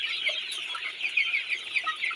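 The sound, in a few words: Sonali chickens clucking on farm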